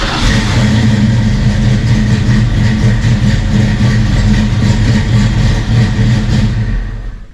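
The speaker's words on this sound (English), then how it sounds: "Listen to how quickly it comes up to an idle when I fire it here" A cammed 1992 Ford Mustang engine runs loud and close, a deep steady rumble with a lumpy idle that holds through, then fades slightly at the end.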